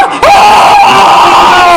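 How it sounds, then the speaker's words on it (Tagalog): A man screams very loudly, in one sustained, strained yell that starts abruptly and holds at full strength to the end, with no other voices. "Ang lakas naman ng sigaw ng lalaking yun."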